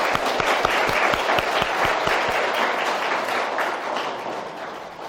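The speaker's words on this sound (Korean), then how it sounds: "우리 서로 부활 축하한다면서 박수 한번 칠까요?" Congregation applauding at an Easter Sunday daytime Mass in a Catholic church, a steady, dense round of clapping from many hands filling the space for about five seconds, fairly loud and even without speech.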